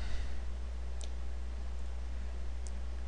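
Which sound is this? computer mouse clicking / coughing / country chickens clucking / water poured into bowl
computer mouse clicking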